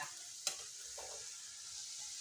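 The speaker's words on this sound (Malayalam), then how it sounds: "നമുക്ക് മീൻ ഇട്ട് കൊടുക്കാം" Dried fish dropped into a hot pan with browned onions for a dried fish and bottle gourd curry: a sharp clink, then a steady, close sizzle and light stirring, no talk.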